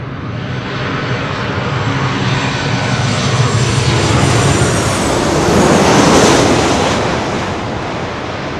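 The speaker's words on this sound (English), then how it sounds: "This is Southwest Airlines 371 coming in from Las Vegas on a 737-800." A Southwest Airlines Boeing 737-800 from Las Vegas lands at LAX, its jet engines producing a loud, broad roar that builds steadily, peaks near the end and begins to ease, with no voices.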